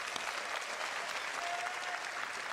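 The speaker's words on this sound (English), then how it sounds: "please give a round of applause for Tyler Wicken" Steady applause from a crowd fills the whole moment, a dense, even patter of clapping at moderate volume.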